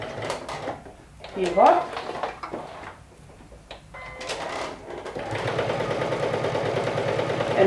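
A sewing machine stitches a quarter-inch seam through fabric backed with fused interfacing, its steady mechanical whirr running strongest over the last few seconds after a stretch of talking and handling noise.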